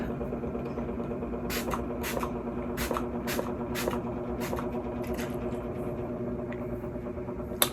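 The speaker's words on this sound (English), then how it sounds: "So this is the Anastasia setting spray to lock in the look." A series of short, sharp spritzes from an Anastasia makeup setting spray bottle, about ten quick bursts in an irregular rhythm over a low steady hum.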